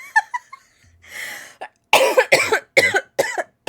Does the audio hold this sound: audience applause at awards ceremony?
no